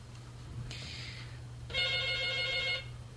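A telephone rings for an incoming call: two bursts of electronic ringing, the second brighter and longer, over a steady low hum and no talking.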